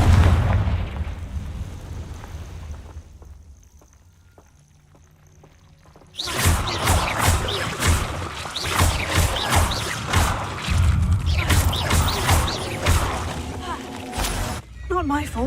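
A Confringo fire spell in the Hogwarts Legacy video game bursts into a loud explosion after a quiet stretch, followed by sustained crackling blasts and rumbling combat noise, with a player voice over it.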